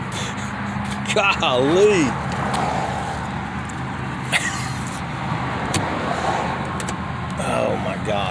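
Old rusty Pennsylvania pickup truck driving down the road, its steady engine and road rumble continuous throughout, with a person speaking and exclaiming over it.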